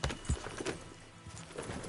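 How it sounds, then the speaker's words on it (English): Horse hooves clip-clopping in the video game Red Dead Redemption 2, a quick run of moderate, fairly close hoof beats with a soft background bed and no talk. "Mr. Mason, I'm borrowing your horse."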